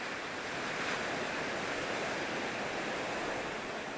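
Ocean waves washing onto a sandy beach at Jeongdongjin, Gangneung, in winter, a continuous loud broadband roar of surf with no pauses, near and alone.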